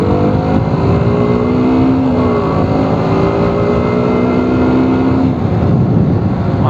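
A KTM Duke 125 BS6 motorcycle riding off, its engine note rising and falling through gear changes, loud and close with steady road and wind noise throughout.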